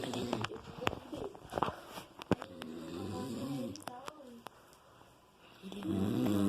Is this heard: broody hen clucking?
no